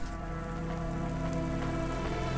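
Steady, dense rain patters on hard surfaces in the Cloudpunk video game, a constant loud hiss without pauses, alone with no voices.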